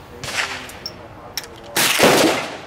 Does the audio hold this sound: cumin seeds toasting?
no